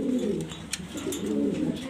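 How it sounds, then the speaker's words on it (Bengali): Satin pigeons coo in a close, steady, throaty murmur of overlapping low calls, with a few brighter chirps mixed in. "দেখার মতো কবুতর শাটিন কবুতর"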